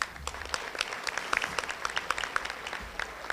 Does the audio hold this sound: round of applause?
yes